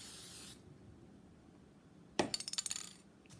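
A short hissing burst of aerosol spray onto a wine glass at the start, then quiet, followed by a few light clinks and rattles.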